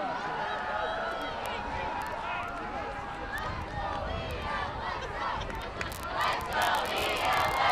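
A high school football crowd at a Spartans game against Longmeadow roars and shouts continuously from the stands, a dense distant wash of voices swelling near the end.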